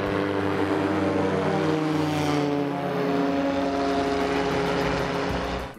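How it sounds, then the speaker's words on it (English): A small propeller airplane's engine drones loudly and steadily during a short takeoff roll in Mati, Davao, its tone rising slightly as it accelerates, with wind rushing around it. "how short the takeoff roll of this airplane was, as we literally jumped off the ground"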